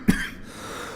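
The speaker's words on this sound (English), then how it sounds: "How long have you had that cough?" A single hoarse cough sounds in a dramatized reading of Poe's tale of a wine-cellar, set amid nitre-crusted catacombs. It is a short, close burst that gives way to quiet room tone.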